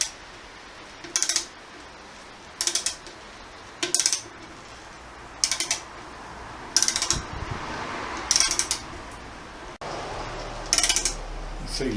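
A ratchet clicks in short repeated bursts, about eight of them with pauses between, as a bolt is tightened while a Harley-Davidson Sundowner seat is fitted on a Sport Glide motorcycle. The clicks are close and fairly loud.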